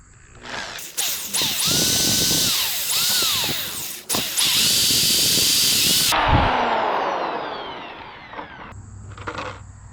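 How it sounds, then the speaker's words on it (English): Power drill drilling out a pop rivet on a lawn mower during a cable repair: a loud close whine that rises and sweeps in pitch, briefly stops and restarts, then winds down into a fading hiss with a short burst at the end. "Get your drill and make sure the bit's the right size for the diameter rivet that you're going to use."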